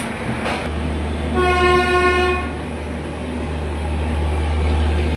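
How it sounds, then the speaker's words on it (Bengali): The Bharat Gaurav tourist train departs a Kolkata station with a loud, steady diesel engine rumble. A bright horn blast sounds for about a second partway through, and the low drone carries on afterward until an abrupt cutoff. "ভারত গৌরব ট্যুরিস্ট ট্রেন কলকাতা স্টেশন থেকে ছাড়ছে।"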